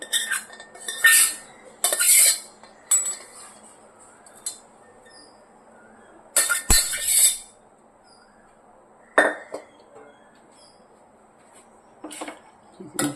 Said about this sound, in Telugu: ఇప్పుడు రైస్ని మనం తాలింపు పెట్టుకున్నటువంటి దీంట్లోకి షిఫ్ట్ చేసుకుని కలిపేసుకోవాలండి